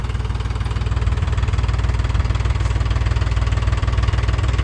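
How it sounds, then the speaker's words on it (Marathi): A tractor engine runs close by with a steady, throbbing diesel chug and rattling vibration, loud and continuous with no talk. "आमचे हे आलेले होते ट्रॅक्टर घेऊन."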